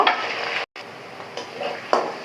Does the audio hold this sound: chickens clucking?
no